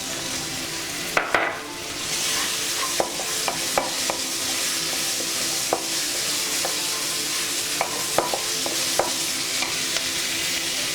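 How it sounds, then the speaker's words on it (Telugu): Onion pieces sizzle and fry steadily in hot oil for cumin rice, a continuous close crackle with scattered sharp pops and occasional stirring clicks throughout. "ఉల్లిపాయ ముక్కలు వేసుకుందాం."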